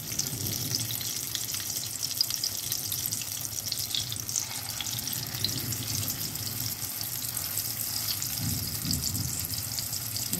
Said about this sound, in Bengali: শ্যালো ফ্রাই করবো বলে খুব অল্পই তেল দিয়ে দিয়েছি